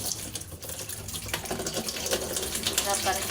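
Water runs steadily from a tap in a continuous splashing stream while wheat flour dough is washed, close and moderately loud.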